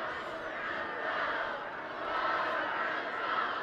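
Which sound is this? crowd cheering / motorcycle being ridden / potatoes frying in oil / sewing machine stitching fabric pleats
crowd cheering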